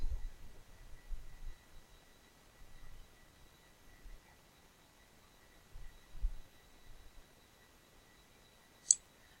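A single sharp computer mouse click sounds near the end, close and quiet against a low hum and a few faint thumps.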